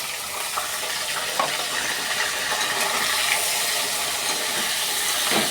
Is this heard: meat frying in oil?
yes